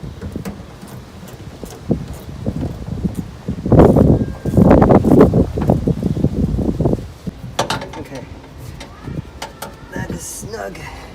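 Fittings on a 1978 MGB fuel tank are tightened with close, irregular mechanical clicks and scraping, plus bursts of handling noise, while someone talks.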